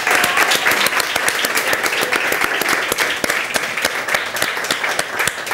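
An audience at a Spanish quiz show applauds continuously, dense rapid clapping from many hands, loud and sustained throughout.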